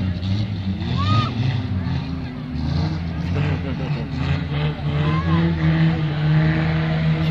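Banger cars at a ramp rollover racing event at Lochgelly HRP Racewall, with loud engines revving and droning continuously throughout, close and busy, with crowd noise and voices mixed in.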